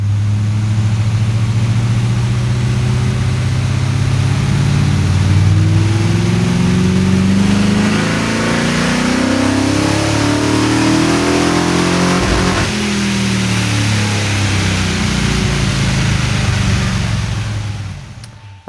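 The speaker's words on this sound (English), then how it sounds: "I'll rev it a bit harder now and we'll put some timing in it and see how we go." A car engine on a dyno revs hard and close, climbing in pitch through a long pull to high RPM, holding near the top, then easing back down as the run ends.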